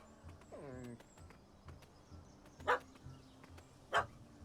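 A puppy barks in The Witcher 3, with a short whimpering yelp near the start and two sharp, fairly loud barks later over a quiet ambient game backdrop.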